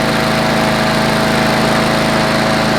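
A Honda small engine on an MTD lawn mower running after a carburetor rebuild, idling at a lowered RPM with a loud, steady, even drone and buzz close by, no talk.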